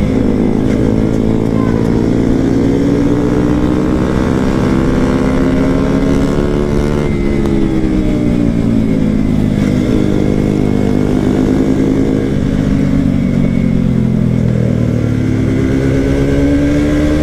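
Motorcycles including a Yamaha MT-15, KTM RC 200 and a Suzuki 150 held at full throttle, loud and close, with engines droning and rising and falling in pitch through gear changes, continuous for the whole stretch.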